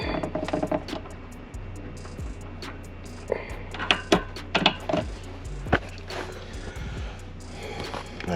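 Tightening bolts on a CURT 13453 Class 3 trailer hitch under a 2022 Toyota Highlander, faint mechanical clicks, clunks and wrench taps scattered across a quiet garage background.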